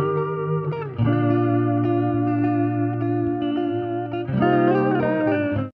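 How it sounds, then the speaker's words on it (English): A processed, effect-laden Afrobeats guitar sample loop plays sustained chords with a warm, chorused tone, shifting harmony briefly before returning to the main figure. "this amazing guitar sample I found inside of Afrovault production suite, and it sounds like this"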